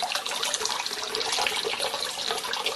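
Water running steadily into a quart-sized container, a close, continuous splashing flow with no talk over it.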